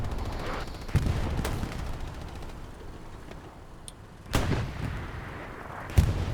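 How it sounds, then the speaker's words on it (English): Gunfire sounds from a destroyed tank's machine gun in the Hell Let Loose video game, with a steady rattling rumble and a few loud, sharp reports at intervals, heard alone without voices. "if a tank dies and you're near it, you can still hear the whole machine gun noise"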